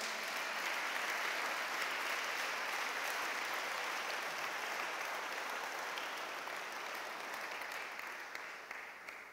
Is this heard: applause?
yes